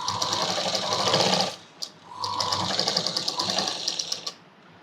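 Sewing machine stitching a neck pattern on a Punjabi dress, running in two steady bursts with a brief pause between, close and fairly loud with no talking.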